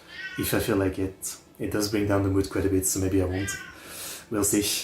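A house cat meows repeatedly and insistently, close to the microphone, its calls overlapping a person talking steadily at the same time.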